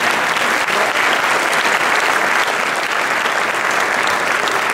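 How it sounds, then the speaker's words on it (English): An audience at an academic lecture breaks into applause, a loud and sustained wash of clapping from a large crowd that holds steady throughout. "they can have a round of applause anyway"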